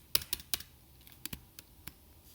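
A handful of sharp, close keystrokes on a computer keyboard, spaced individual taps spelling out a short word, fairly quiet with no voices.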